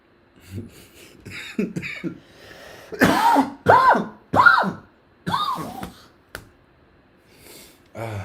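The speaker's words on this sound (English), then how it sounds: "Second, third, fourth, fifth cough of the podcast" Several harsh coughs and throat clearing come in a close, loud run, separated by short gaps, with faint tapping around them.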